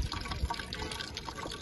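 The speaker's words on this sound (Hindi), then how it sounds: "बहुत कम पानी आ रहा है, थोड़ा टाइम लगेगा भरने में" Drinking water trickling slowly from a tap at a parking stop in Banihal, filling a camper's water container; a steady, soft, low-level splashing flow continues alone throughout.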